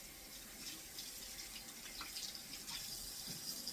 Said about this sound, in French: Et on va nettoyer avec de l'eau